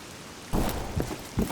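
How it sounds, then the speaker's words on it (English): Rain falls in the S.T.A.L.K.E.R. Anomaly video game as a steady broadband hiss, broken by a few louder splashing gusts, with no voices. "Now with the rain coming along"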